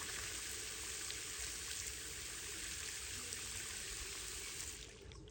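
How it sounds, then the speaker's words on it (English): A water hose sprays and rinses composite boardwalk boards outdoors, a steady close hiss of spraying water that drops off slightly near the end. "I always take this time to kind of rinse off the boards while I'm at it."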